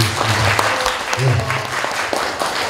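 Guests at a 60th-birthday primary school class reunion in a Daegu hotel applauding their chairwoman, a close, loud burst of clapping with some voices mixed in.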